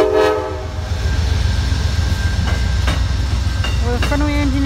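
Southbound Amtrak 57 Vermonter passenger train rolling past in Greenfield, Massachusetts, loud and close, with a steady rumble of wheels on rails, short horn blasts and rail clatter. Faint voices may be present.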